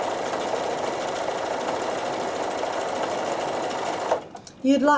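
A sewing machine runs a single star-pattern stitch in a steady, close, continuous buzz for about four seconds, then stops abruptly, followed by a brief voice.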